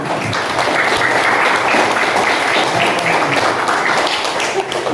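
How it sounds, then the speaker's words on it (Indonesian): Applause from a room of participants at an academic supervision coaching session, steady dense clapping for the full length, loud and close with faint voices mixed in. "Tepuk tangan"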